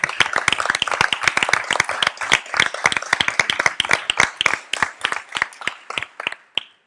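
Candidates at an Italian Chamber of Deputies hearing give a round of applause for another nominee, with crisp, close hand claps in a quick uneven rhythm that thins out and stops near the end.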